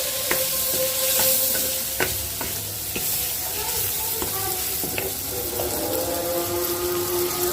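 Chicken pieces cook in a pot as haleem spice mix is stirred in, giving a steady sizzle with repeated scraping and clinking of a spoon against the pot.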